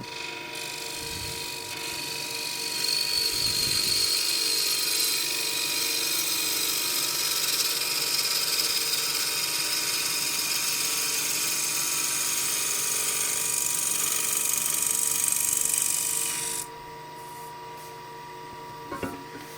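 A lathe spins a hornbeam bowl while a gouge makes a shear cut, giving a steady high whirring hiss that runs for most of the stretch, then drops off sharply near the end.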